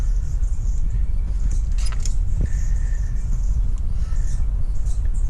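A car engine with a Holley Street HP 750 CFM vacuum secondary carburetor is revved at full throttle, a loud, steady low roar close by, with a few light metallic jingles and clicks over it.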